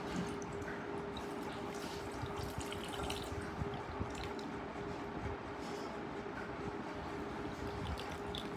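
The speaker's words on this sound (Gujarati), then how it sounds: "ચલો ઉપર પાણી આપી દઈએ." Water poured over small Radha-Krishna idols during a home puja and adornment ritual, a soft, steady trickling and splashing that stays faint and continuous, with no talking.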